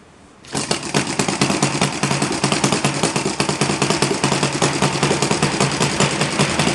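A Saito FA 170 R3 three-cylinder glow model engine fitted with OS G5 glow plugs catches instantly after a quiet start, then runs loud and close with a rapid, even, throbbing exhaust beat.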